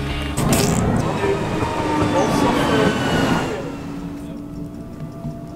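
Steady rumble and rattle of an Östgötapendeln commuter train bound for Motala in motion, heard from inside the carriage, easing slightly toward the end.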